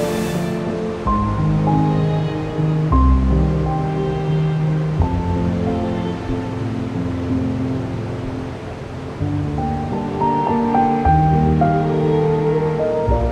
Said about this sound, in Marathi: हा आपला दुसरा धबधबा बरकीचा